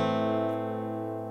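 A minor chord rung out on acoustic guitar in a bluegrass style, sustained and ringing steadily with rich harmonics, fading slightly, played alone with no talking.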